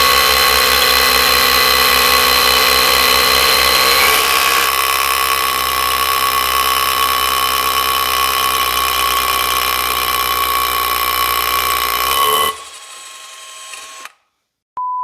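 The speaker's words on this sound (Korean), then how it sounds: "여기 지금 화면에 보시면 이 두 가지 제품에 동시에 뚫리고 있는 모습을 보신다면 확 와닿으실 거예요" Two Makita cordless drills run at the same time, boring into a workpiece with a loud, steady whine close by. Their tones shift partway through, then cut out abruptly near the end, followed by a brief beep.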